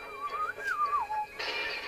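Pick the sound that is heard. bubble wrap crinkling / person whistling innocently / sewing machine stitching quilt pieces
person whistling innocently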